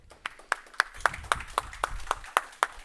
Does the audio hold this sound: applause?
yes